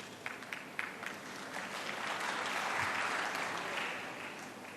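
An audience at an Indian Science Congress speech breaks into applause, a dense, even patter of many hands that swells through the middle and stays fairly distant in a large hall.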